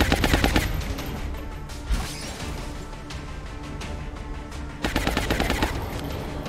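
Automatic gunfire in the strategy game XCOM Long War: loud rattling bursts open and close the passage, with scattered shots and impacts between them, and no talk over it.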